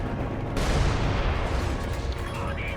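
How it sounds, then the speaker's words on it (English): Artillery fire and battle noise in the Company of Heroes 2 video game: a dense, rumbling roar of distant blasts and gunfire that swells sharply after a moment and stays loud and continuous throughout. "they're firing artillery from their base"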